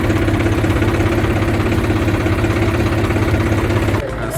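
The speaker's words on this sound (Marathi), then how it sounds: "एकदम ट्रॅक्टरवर आयडियल रेसवर चालते ती एकदम कमी खर्च" A tractor engine idles at low revs while driving a brick-making machine, a loud, steady mechanical drone with constant low throb and vibration that drops off abruptly near the end.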